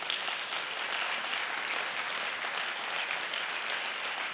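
A church congregation applauds during a worship service, sustained, dense clapping from many hands that holds steady throughout with no speech over it.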